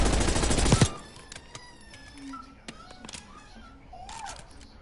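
A fast, loud burst of automatic gunfire in Call of Duty Warzone on Rebirth Island rattles for under a second, then gives way to scattered quieter clicks and faint game sounds.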